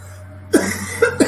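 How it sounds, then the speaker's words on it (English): Three sharp coughs, close and fairly loud, follow a quiet pause, with a steady low hum running underneath. "I am getting cough."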